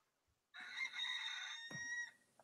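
A rooster crow, apparently an alarm sound, rises suddenly out of near silence as one clear, sustained, moderately loud call that lasts about a second and a half.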